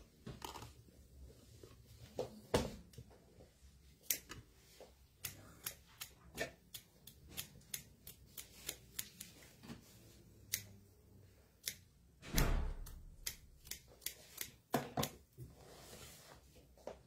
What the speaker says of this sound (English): Now Andrea will cut the excess of the fabric.